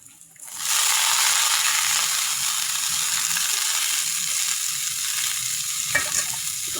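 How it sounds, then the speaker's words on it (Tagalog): Garlic and onion sauté in a pan for a vegetable lumpia filling, starting with a quiet moment and then a steady, loud, close sizzle with faint scraping and a small clack near the end. "Ilalagay natin yung ating bawang at sibuyas. Yan o, konting gisa-gisa lang mga sis."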